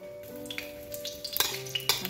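Beef and lemongrass stir-fry briefly in hot oil in a pan, a soft sizzle with light scraping and clinks of a utensil against the pan, close and quiet, with a faint steady hum underneath.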